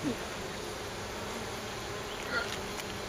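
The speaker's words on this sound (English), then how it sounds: "Because they're Russian bees." Steady, close buzzing of Russian honey bees fills the whole clip with no talking, a low continuous drone with faint passing whines.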